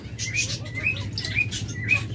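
Pet lovebirds or budgerigars, a breeding pair, give short high chirps at a steady, repeating rhythm over a low background hum, fairly close.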